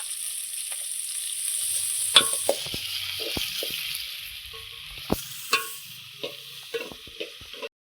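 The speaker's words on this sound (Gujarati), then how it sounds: "એકલું લસણ ખાંડેલું છે આપણે નાખી દેવાનું છે" Crushed garlic sizzles steadily in hot oil while cooking a curd and okra curry, with a few sharp clicks and stirring taps over the frying hiss, close and alone.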